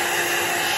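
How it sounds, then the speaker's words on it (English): Hair dryer blowing on an alcohol ink painting, a steady broadband whoosh of air, loud and close, with no voices. "until you can learn to turn your dryer the other way, you might want to consider turning it off."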